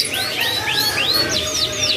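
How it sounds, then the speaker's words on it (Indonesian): A caged canary at a bird market kiosk sings a rapid series of bright, rising whistled trills, repeated phrases close and loud over a faint busy background. "pantau-pantau burungnya untuk dengerin suaranya"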